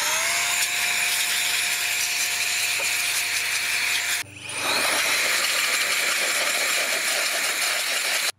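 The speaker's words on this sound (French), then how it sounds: "Concernant le nettoyage des filtres, une soufflette." An air blower hisses with a steady, loud rush of air while cleaning the filters of a Narwal Freo X Plus robot vacuum, with a brief break and a shift in tone midway before the blast continues and then cuts off.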